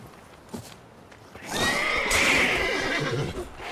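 A horse in The Witcher 3: Wild Hunt whinnies loudly and close by, a long rising-and-falling neigh with a few hoof clops around it.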